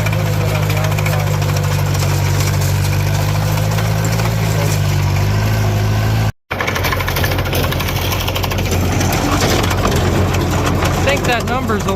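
An International McCormick 46 hay baler runs loud and steady, its engine droning under a rapid mechanical knocking and thumping, with a brief cut partway through.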